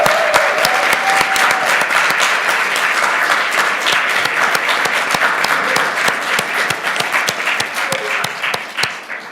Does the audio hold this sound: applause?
yes